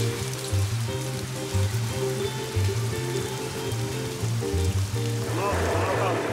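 Steady rain patters continuously in Sierra Leone while a voice speaks over it.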